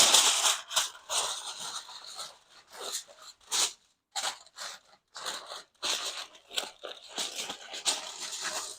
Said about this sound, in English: Try to give that a pull without ripping the paper, or tinfoil rather.